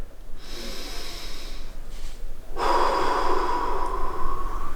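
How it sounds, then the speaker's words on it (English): Deep breathing during a beginner floor mobility exercise in a bedroom, a close, audible inhale followed by a longer, louder airy exhale, with no talking. "And then a deep breath."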